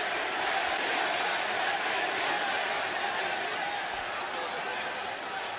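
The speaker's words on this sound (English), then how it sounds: "This crowd is alive." A packed WWE wrestling arena crowd gives off a loud, continuous roar of cheering and shouting that holds steady from start to finish with no breaks.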